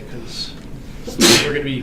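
During a calculus lecture, someone in the room sneezes once, a sharp loud burst partway through, while the lecturer keeps talking.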